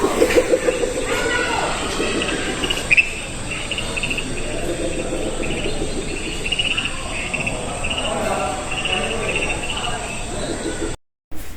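Jungle soundscape played inside the Tibidabo museum in Barcelona: a steady bed of chirping crickets and insects with bird-like calls, running continuously and fairly loud before cutting out briefly near the end.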